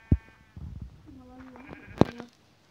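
Sheep bleating in the Minecraft video game: a quick sharp sound at the start, then a wavering tonal bleat in the middle and a louder bleat near the end, close and clear over faint background noise.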